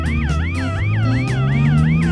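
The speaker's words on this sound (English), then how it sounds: "Police SUV." A police SUV siren from a children's cartoon wails in a steady, loud rising-and-falling pattern, repeating about every quarter second, with a low engine hum running beneath it.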